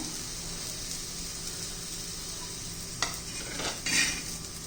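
Masala being stirred and pressed into garlic in a hot pan for a spicy garlic relish, a steady faint sizzle with a couple of louder scraping pushes of the spoon toward the end.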